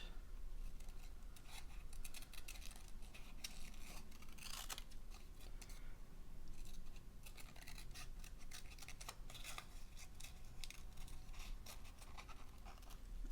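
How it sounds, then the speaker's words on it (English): Scissors snip out a paper leaf shape for a fall collage, giving a run of soft, close, irregular cutting clicks and rustles at low volume with no talking. "I don't want to spend 10 minutes trying to cut out a leaf."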